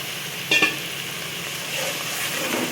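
Prawn malai curry sizzles steadily in a pan after milk is poured in, with a brief spoon clatter near the start and a hissing bubble that continues throughout at close range. No speech.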